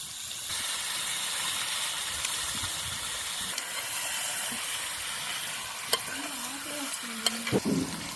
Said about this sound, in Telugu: చికెన్ యాడ్ చేస్తున్నానండి